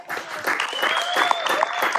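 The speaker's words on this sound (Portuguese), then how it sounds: "Maria, salva de palmas para Maria." A church congregation clapping for a woman during an evening sermon, short and steady, with a sustained tone running beneath the claps.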